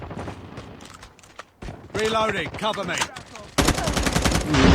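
Rapid gunfire from Call of Duty Mobile in Ground War mode on a desert map: bursts of automatic shots and loud booms that grow denser and louder toward the end, with a player talking over the action.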